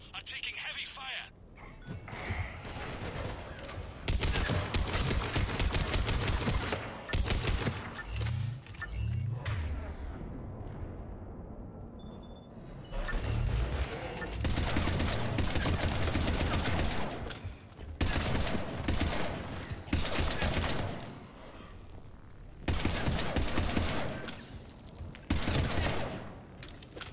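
Heavy battlefield gunfire in the video game Mass Effect 3, dense sustained volleys with thumps and mechanical clatter, rising and falling in loud stretches across the scene, with voices talking over parts of it.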